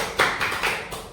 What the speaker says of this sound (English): Okay, you clap to Salim.